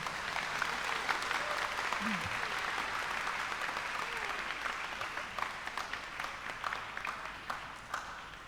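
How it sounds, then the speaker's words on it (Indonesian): Congregation in a church applauding children who have just received their first communion: steady, dense clapping that fills the space for several seconds and thins slightly toward the end. "Mari kita beri tepuk tangan untuk mereka semua ya."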